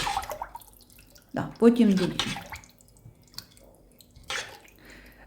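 Water pours into a cooking pot in a home kitchen, a brief splashing gush between bursts of talk, close by and moderately loud.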